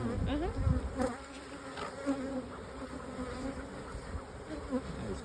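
Honeybees buzzing around an open, busy beehive, a dense continuous drone of many wings close by with individual bees flying past, and no talking.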